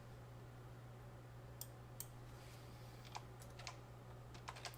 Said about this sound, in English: Sorry, one hand typing here.